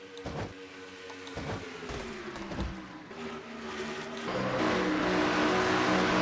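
A race car engine from the NASCAR Racing video game, the number 98 Bojangles Ford, drones with a steady whine and shifting pitch, then swells louder and rougher toward the end.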